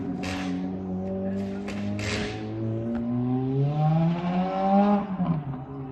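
A Ferrari F430 with a modified exhaust drives up the road, its engine note rising and falling through gear changes as it pulls away, loud and steady throughout with no talk.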